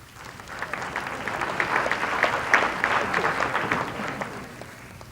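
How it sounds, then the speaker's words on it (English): A crowd at a beauty pageant claps steadily for a few seconds, dense and continuous applause with no voices standing out. "Ladies and gentlemen, the final round of applause, please, for Miss Personality."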